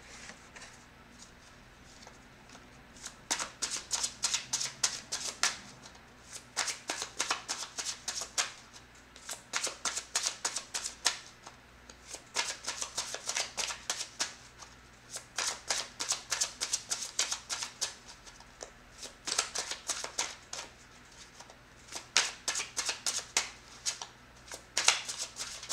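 Tarot cards shuffled by hand in repeated quick riffling bursts, each lasting a couple of seconds and separated by short pauses, close and fairly soft against a quiet room hum.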